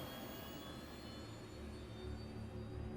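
Spaceship engines roar during takeoff in Star Citizen, a steady broadband rumble with a low drone that swells slightly toward the end, fairly distant and without voices.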